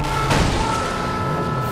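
Cars smash into each other in the Mad Max video game, a loud booming metallic impact near the start followed by a rumbling engine drone that carries on steadily.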